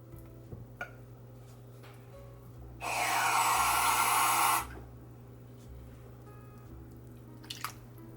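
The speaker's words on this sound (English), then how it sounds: "So I might just add a little bit of water" Water poured from a cup onto a pan of roasting potatoes, a steady splashing pour lasting about two seconds amid faint kitchen clicks and background hum.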